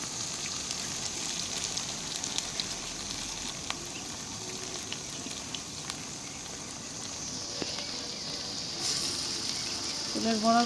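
Flower fritters in gram flour batter frying in hot oil, a continuous dense sizzle with faint crackles throughout, close and steady, with a voice speaking briefly near the end.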